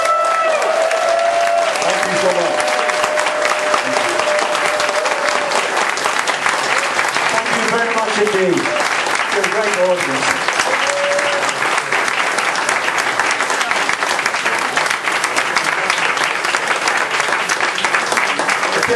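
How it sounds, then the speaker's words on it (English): A crowd at a Doctor Who fan event applauds steadily and loudly for the whole stretch, dense clapping with a few faint voices and whistles underneath. "please give a big round of applause to Peter Purves"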